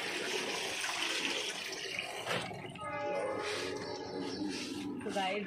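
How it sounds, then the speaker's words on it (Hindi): Running and splashing water while clothes are washed by hand outdoors, a steady close wash of water with voices talking over it. "मम्मी कपड़े धो रही हैं।"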